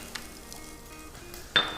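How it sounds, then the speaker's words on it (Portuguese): Sausage fries quietly in a pan with a faint steady sizzle, light clinks of utensils, and a sharper burst of sizzling near the end. "eu vou colocar essa linguiça na panela e vamos começar a deixar ela ficar crocante"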